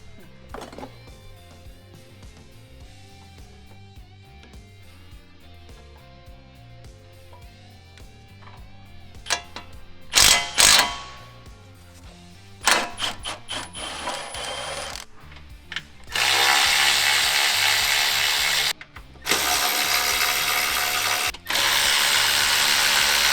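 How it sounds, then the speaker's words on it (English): A ratchet works bolts loose on the under tray of a Nissan 350Z, with rapid clicking bursts at first, then long loud stretches of continuous mechanical whirring, like a power ratchet, broken by short pauses, close and without talk. "to remove the under tray so we can get access to all the necessary bolts"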